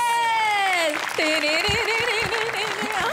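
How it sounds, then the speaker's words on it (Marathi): An audience applauding on a Marathi television comedy show, a steady wash of clapping under sustained musical or sung tones that fade in and out. "आमिरसाठी एकदा जोरदार टाळ्या प्लीज."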